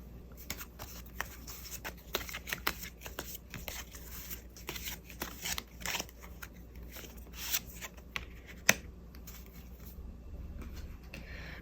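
Tarot cards are shuffled and drawn by hand in quiet close-up, a run of soft, irregular flicking and sliding taps with occasional sharper snaps and no talking.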